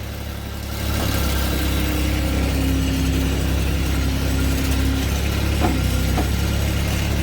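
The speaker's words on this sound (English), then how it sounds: "This is the ram, and let's go ahead and run it out." A firewood processor's hydraulic ram runs out under a steady engine drone, with a faint rising whine held for a few seconds and a couple of brief knocks near the end.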